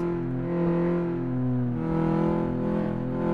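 Simulated car engine from Car Mechanic Simulator 2018, stuck in first gear, droning at steady high revs with strong harmonic tones, loud and continuous with slight swells in pitch.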